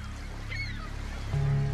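Seagull cries from Age of Empires 2 over the foggy Noryang Point sea of 1598, a few high gliding calls above a low steady ambient hum, moderately near and fairly faint.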